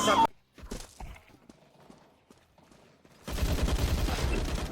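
Gunfire in Counter-Strike 2 comes as an opening sharp burst, then a long rapid volley of shots, loud and close, mixed with someone speaking over quieter moments between.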